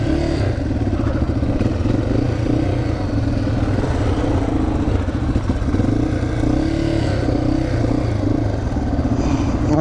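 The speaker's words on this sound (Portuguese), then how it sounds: "Prepara as motinhas." Motocross motorcycles idling and revving on a dirt track, a loud, steady mid-pitched engine drone with rattling clatter, close by and continuous.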